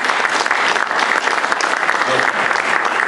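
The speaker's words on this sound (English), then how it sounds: "Can we have a round of applause to those who agree?" An audience at a solar industry conference applauds, loud, continuous dense clapping from a crowd that fills the room steadily for a few seconds, with faint murmurs mixed beneath.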